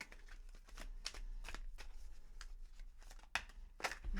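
A deck of tarot cards is shuffled and cards are pulled during a reading, a quiet close run of soft riffling flutters and snaps with short rustling pauses.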